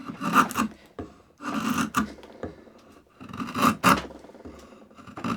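A draw knife shaves wood, its blade riding flat on the bevel, in repeated rasping strokes: two long pairs of close, scraping pulls separated by brief pauses, with no talk.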